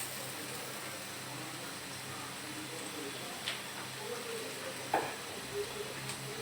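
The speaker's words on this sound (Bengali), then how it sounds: "এগুলাকে আমি ব্রাউন করে ভেজে নিব।" Chopped garlic and ginger fry in oil in a pan with a soft, steady sizzle, faint and continuous, punctuated by a few light ticks and scrapes of stirring.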